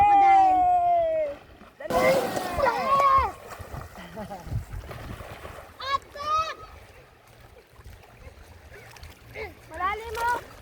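People diving and splashing into a river in the provinces, with several close bursts of splashing water and sloshing, mixed with shouting voices and lively chatter throughout.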